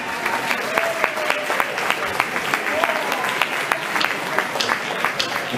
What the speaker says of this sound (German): Euer Applaus für Sarah.